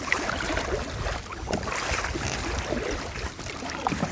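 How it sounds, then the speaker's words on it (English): A kayak on a lake paddling into a headwind, with blustery wind noise and water sloshing around the hull in a steady, close wash. "Probably an hour and a half straight paddling into the wind."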